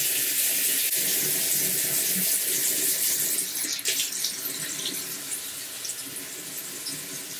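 Tap water running steadily into a sink to wet an underarm before shaving, a continuous close hiss and splash that stays fairly even throughout, with no talking.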